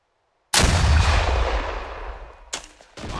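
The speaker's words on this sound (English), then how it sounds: "Yeah, so that's what the airburst does. It'll explode when hitting the ground" Airburst anti-tank round from a medium anti-tank launcher detonating in the ArmA 3 game: one loud, close boom with a long rumbling decay, followed by a couple of short sharp cracks.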